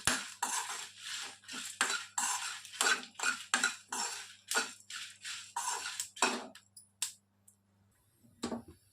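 Dry red chillies and spices fry in a pan, a metal spatula scraping and clinking against it in a quick, uneven rhythm of strokes before a short pause and a final clink.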